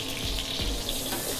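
Shrimp curry paste sizzles and crackles as it is stir-fried in a hot wok, with a couple of soft scraping stirs in a short, close burst.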